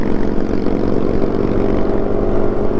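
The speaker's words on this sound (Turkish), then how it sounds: "Harley'in sesine bakın." A steady, loud Harley-Davidson motorcycle engine rumbles continuously with a low throbbing drone, close by and unbroken, with no talking.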